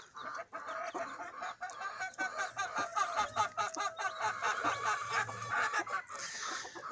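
Chouquette, a Crozet hen, and her chickens cluck and chirp steadily and close by for the whole stretch, a busy overlapping chatter of farmyard fowl in sunny weather.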